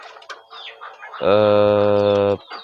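Kampung chickens of the KUB breed, a flock of four hens and two roosters, give a sustained loud vocal call in the middle of the clip, with softer scattered clucks before and after.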